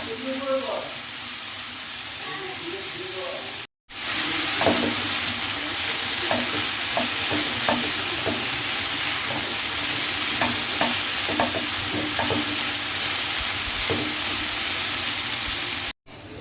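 Carrot frying in ghee with cardamom, stirred in a pan: steady broad sizzle with repeated scraping stir strokes throughout, briefly cut off near the start and end.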